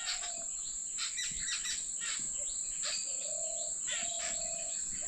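Birds chirping and chattering in scattered bursts, with a steady high insect buzz and a few low coo-like notes behind them.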